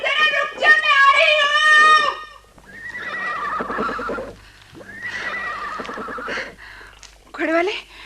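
A horse lets out a loud, close whinny with a shaking, rising-and-falling pitch in a Hindi radio drama, followed by voices speaking over quieter background sound.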